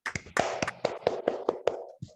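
A small group claps briefly for Claudia during an online class session, with a handful of distinct, fairly close hand claps in an uneven rhythm over about two seconds.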